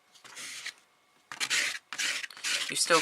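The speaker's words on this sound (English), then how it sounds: "just get the gesso on a piece of card and just scrape the card" A piece of card loaded with gesso scrapes across art journal paper in three or four rasping strokes, each close and fairly loud, separated by short pauses.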